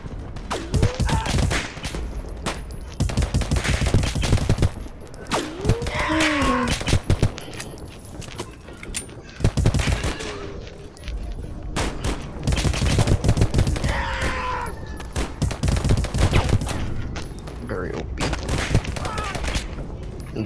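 Dense automatic gunfire from the video game Polyfield, continuous loud bursts of shots stacked close together with brief lulls, a voice talking faintly underneath.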